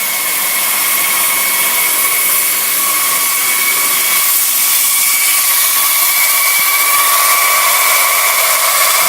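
A steam boiler on a wood-fired test burn blows off steam at about 45 psi: a loud, continuous, close hiss with a faint steady whistling tone running through it, holding unbroken for several seconds, with no talk.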